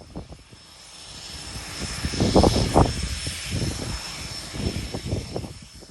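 Propeller aircraft engine running nearby, a rough rumbling drone that swells in the middle and eases off, over a faint steady whine.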